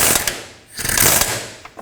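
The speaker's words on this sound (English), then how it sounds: "I'm going to tighten both of the through bolts that go on the power steering rack" Wrench or ratchet tightening the through bolts on the power steering rack of a Pontiac G6, with two bursts of close clicking and metallic mechanism noise separated by a brief pause.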